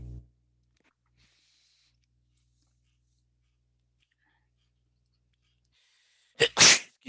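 A single sharp human sneeze bursts out near the end after several seconds of near silence in an online chemistry lecture, loud and close to the microphone.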